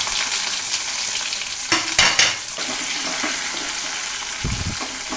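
Dried red chillies and onion sauté in coconut oil for a jackfruit seed and mango curry, a continuous close sizzle broken by a few clattering stirs of a utensil against the pan.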